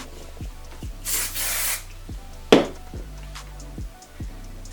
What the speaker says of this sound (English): that's what the Got To Be Glued spray is gonna do, which is gonna help all of the waves stay together